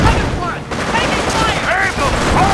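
Rapid, continuous gunfire crackles through a battle on the causeway in the World War II strategy game Company of Heroes: Tales of Valor, loud and unbroken, with shouting voices cutting in over the shooting.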